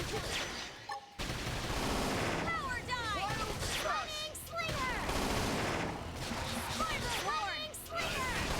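Rapid bursts of gunfire and impacts from Xenoblade X battle, crackling volleys repeating over several seconds amid busy combat effects and game music.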